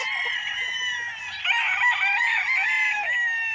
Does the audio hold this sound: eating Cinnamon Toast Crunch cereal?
no